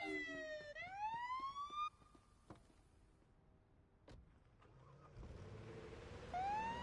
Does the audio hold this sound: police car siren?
yes